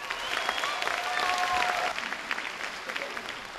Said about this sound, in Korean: 관중들의 박수갈채를 받으며 김덕수 씨와 한울림 예술단이 무대 위로 올랐습니다.